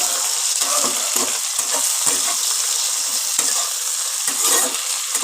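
Tomatoes sizzle steadily in a hot pan as a utensil scrapes and stirs them in repeated strokes, close and loud.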